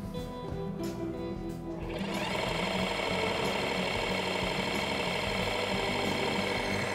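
A Junker vibration test machine starts up at about two seconds and runs on a HYTORC J-Washer bolt, giving a loud, steady mechanical drone and rattle. The drone continues without a break to the end, with no talking.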